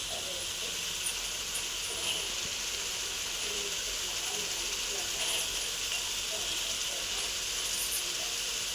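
Ingredients sautéing in a pan during home breakfast cooking in a small kitchen, giving a steady, continuous broadband sizzle and hiss that runs evenly throughout with no talk over it.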